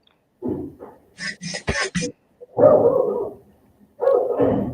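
A dog barks in a run of sharp, close barks, several in quick succession, with some higher yips mixed in.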